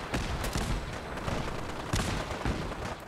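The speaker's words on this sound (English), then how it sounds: "He's being shot. Oh dear, who's shooting him?" Gunshots ring out in Fallout 4, a dense crackle of repeated shots and booming impacts at fairly steady volume, with heavier reports at intervals, and no talking.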